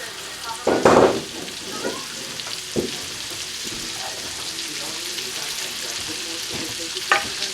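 Shrimp frying in a pan with salt and pepper, a steady sizzle with a few louder scrapes and clatters as they are stirred in.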